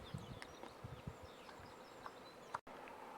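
A swarm of bees circles a catch hive mounted high up outdoors, giving a faint, steady, diffuse buzzing with a few brief louder passes of single insects close by.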